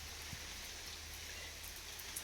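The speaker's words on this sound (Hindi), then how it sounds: "आज आधे दिन से बारिश लग गई है, खूब तेज़ बारिश है" Heavy rain pours steadily over a dense forest at a hill village, a constant hiss with scattered drops striking nearby surfaces and no voices.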